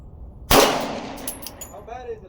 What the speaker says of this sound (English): I don't know why I'm shooting the shit out of this Glock